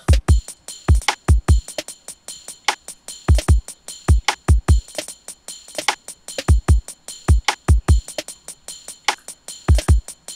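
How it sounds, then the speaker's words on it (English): Bright, shimmering tambourine jingles ring out over a punchy low beat, landing in a steady offbeat pattern that sits between the main hits. "a tambourine part just to kind of give it a little bit of an offbeat feel"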